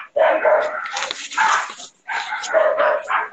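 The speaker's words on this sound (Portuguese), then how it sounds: "os cachorros também estão bem a fim de participar." Several dogs bark in bursts, close and loud, with a short pause in the middle before the barking resumes, and faint whimpering mixed in.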